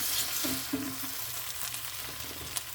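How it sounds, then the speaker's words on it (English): Ham fries in a pan with a soft, continuous sizzle and a few brief stirring scrapes near the start, steady and close. "Now the ham, I'm cooking that, and that seems to be just about where I want it."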